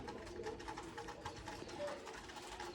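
Pet pigeons cooing softly in their loft, a steady faint murmur of repeated low coos with light background rustle.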